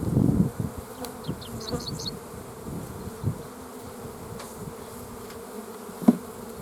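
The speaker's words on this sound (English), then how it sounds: "Bees are pretty friendly overall." Bees buzz steadily close by, a low droning hum broken by a few soft thumps and taps.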